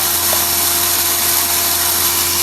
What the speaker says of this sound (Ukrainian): Подрібнюємо нашу кукурудку